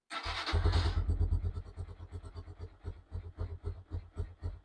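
A Lifan KP200 motorcycle engine, just started from cold, gives a short loud rev burst, then settles into a steady, close, rhythmic putter of firing pulses at idle.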